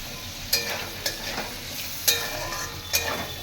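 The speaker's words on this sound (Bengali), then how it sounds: "আলুটা ফ্রাই করে নেব" Potatoes fry in hot oil with cumin seeds in a pan, a steady broadband sizzle punctuated by four sharp scrapes or clinks of a spatula stirring at regular intervals, close and fairly loud, with no voices.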